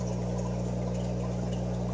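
Water gurgles and trickles steadily as a fish tank in a fish room is lowered, a continuous soft pouring sound over a strong low hum from equipment, with no voices.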